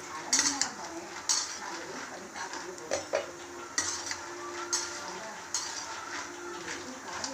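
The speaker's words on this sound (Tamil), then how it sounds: "அதை தான் நான் நெருக்கில் வந்து வறுத்துக்கிட்டு இருக்கேன்" Peanuts are dry-roasted and stirred in a metal pan, with scraping sweeps and light rattling clinks repeating at a steady pace, quiet and close.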